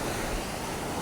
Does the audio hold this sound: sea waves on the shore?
yes